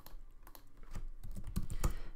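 Computer keyboard keys pressed during 3D modeling work in Fusion 360, a quick irregular run of close, soft clicks and taps with no talking.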